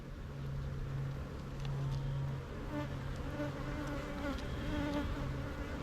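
A steady, dense buzzing of many honeybees swarming close by around an apiary hive, with a continuous low drone that holds at an even level throughout.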